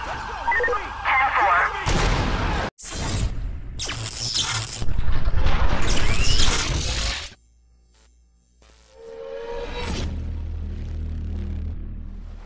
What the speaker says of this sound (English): We have shots fired.